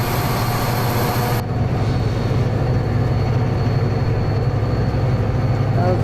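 A GE diesel locomotive in a train simulator game rumbles with a steady, loud low engine drone and rolling rail noise. A brief high hiss cuts off early, and a voice speaks over it.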